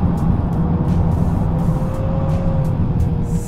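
A car engine held at high revs under throttle while drifting, a loud continuous drone with a rising tonal whine, recorded close and steady with no talk.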